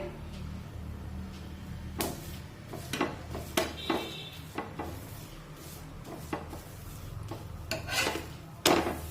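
Oil spread across a peanut masala paratha cooking on a pan, soft rubbing and scraping strokes with light clinks of a spoon or spatula, close and intermittent over a quiet sizzle.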